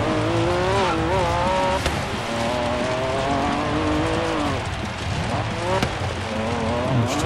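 A 2005 Honda NSX-R races in Forza Horizon 3, its engine note loud and steady, rising and falling through gear changes, with tire noise under it and no talk.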